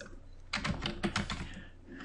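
Keys on a computer keyboard clack in a quick burst of close taps. Faint room noise sits before and after the burst, and no one speaks.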